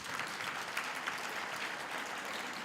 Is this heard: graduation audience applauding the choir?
yes